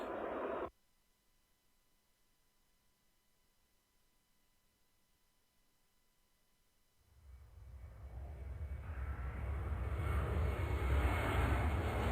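Airplane taking off in the airport-control video game Airport Madness, a brief burst of noise, then near silence before the jet engine roar swells and grows loud and steady over several seconds.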